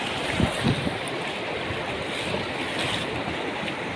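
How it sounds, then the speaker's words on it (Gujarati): A steady, loud roar of the flooded Shetrunji River rushing past fills the clip, a continuous broadband wash with a few faint thumps and no voices. "શેત્રુંજી નદીમાં જે પૂર આવ્યું"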